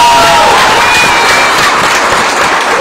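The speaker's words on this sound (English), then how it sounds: "Let's give him one more big round of applause." A crowd at a promotional event applauds and cheers loudly and continuously, a dense wash of clapping and shouts close by.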